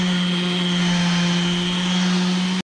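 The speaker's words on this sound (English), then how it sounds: "and I'm gonna start sanding" A power sander on wood aboard a wooden boat whines at a constant, steady pitch, loud and close, running without pause for a few seconds before cutting off abruptly.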